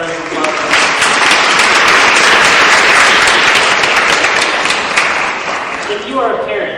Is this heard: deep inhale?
no